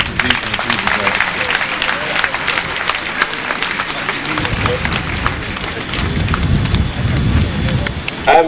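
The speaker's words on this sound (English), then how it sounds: "A round of applause for him" Applause from a crowd fills the space at the commissioning of an asphalt plant, a steady dense clatter of clapping with a low rumble and some voices mixed in, ending with a louder burst.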